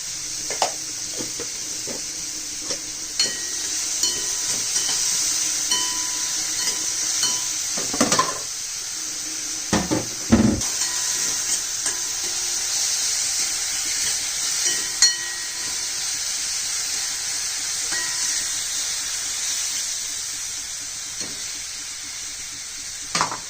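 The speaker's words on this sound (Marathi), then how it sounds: "कांद्यात टाकायचं थोडस मीठ, म्हणजे कांदा पटकन परततो." Chopped onion with a pinch of salt sizzles steadily in a hot pan, a continuous close frying hiss broken by a few spatula scrapes and clinks against the metal.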